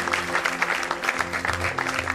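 A crowd claps together at a farewell ceremony, giving brief, steady, fairly close applause with no pauses.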